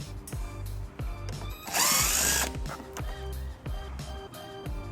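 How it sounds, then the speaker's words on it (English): A power drill with a 7/32 socket backs screws out of a side panel on a 2017 Ford Edge during trailer hitch installation, giving a loud, steady whir in the middle of the clip amid clanks and taps. "We're going to start by removing these 2 screws using a 7/32 socket."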